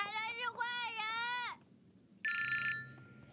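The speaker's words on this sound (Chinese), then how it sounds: "我这可是背着丽姐打的电话呀。" A telephone rings indoors in a family home, loud and close, with a warbling electronic burst followed by a short pause and a second, shorter tone.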